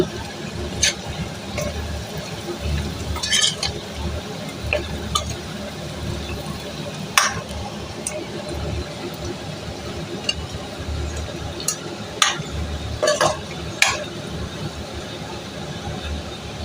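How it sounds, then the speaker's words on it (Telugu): Shrimp being stirred and mixed in a frying pan, with scattered metallic clinks and scrapes of the utensil over a low continuous background rumble. No voices. "ఇప్పుడు రొయ్యలు కూడా వేసేసుకున్నాం బాగా మిక్స్ చేసేసుకోవాలి"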